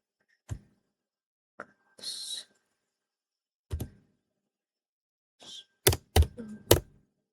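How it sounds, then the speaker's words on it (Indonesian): Keys tapped on a computer keyboard while entering a password at a console login, heard as sparse isolated clicks early on and then a quick cluster of sharper, louder taps near the end, close and quiet, with no voices. "Setelah masuk kita ketik di sini password"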